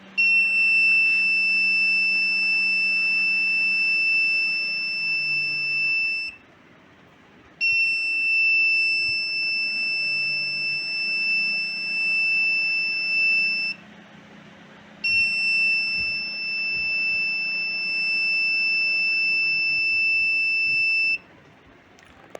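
Prepaid energy meter's built-in buzzer alarm signalling energy theft, sounding as a loud, steady high-pitched electronic tone in three long bursts of about six seconds each, separated by short gaps, with no talk.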